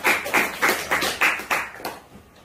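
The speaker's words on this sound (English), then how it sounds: "give them a big applause" A middle-school class at a language academy claps in unison after a student presentation, about eight evenly spaced, crisp claps that grow softer and trail off.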